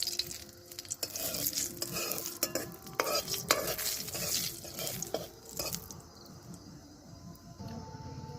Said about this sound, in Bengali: তেলটা গরম হয়ে গেছে, আমি দিয়ে দিচ্ছি শুকনো লঙ্কা, আর গোটা জিরে